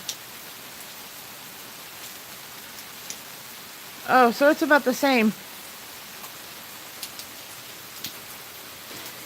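Rain pours on a soaked city street, its even, continuous hiss running throughout while a person speaks briefly in the middle.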